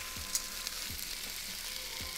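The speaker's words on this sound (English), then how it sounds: "Steak, it sounds like it's ready to be flipped." Steak sizzles steadily in a hot pan in the Cooking Simulator video game, a constant bright frying hiss with a few soft low thumps, no talking.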